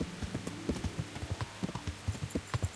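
Horse hooves clip-clop steadily on ground in the video game Kingdom Come, a close, even rhythmic trot of sharp knocks heard alone.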